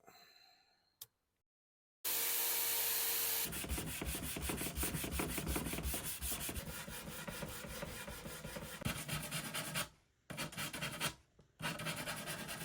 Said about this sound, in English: I decided to hook the sander up to the table and clamp it just so I could use it as sort of a bench tool for the feet